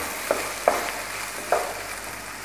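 Capsicum and onion stir-fry with dark soy sauce in a hot pan, a constant oily sizzle under three distinct spatula scrapes and knocks, close up and without voices.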